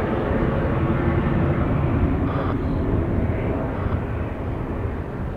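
A fixed-wing airplane passes at Detroit Metro Airport, a steady, loud broadband engine roar that holds throughout with no talk over it.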